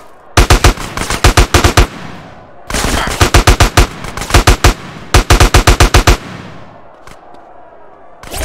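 Repeated bursts of loud automatic weapon fire in GTA San Andreas, three rapid volleys of sharp close shots separated by short pauses, then a couple of isolated reports fading out.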